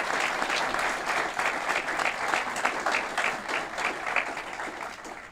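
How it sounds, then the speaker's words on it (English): A crowd at a development project announcement for the new Apex District in Aurora, Illinois applauds in a dense, sustained wash of clapping that holds steady, then tapers slightly toward the end. "A round of applause for our new Apex District here in the city of Aurora."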